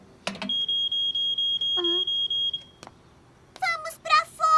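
A cartoon smoke alarm gives a steady run of rapid high beeps for about two seconds, followed by a voice speaking and other voices afterward.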